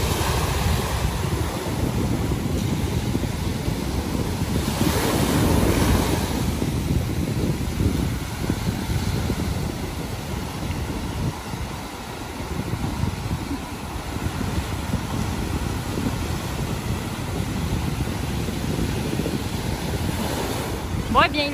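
Ocean surf rolling onto a beach at rising tide, a continuous loud wash of breaking waves mixed with wind buffeting the microphone.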